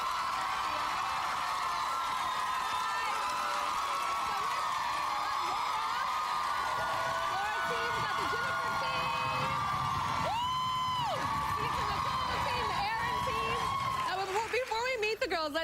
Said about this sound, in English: my whole audience is divided into sections that are each cheering for one of the girls left in the competition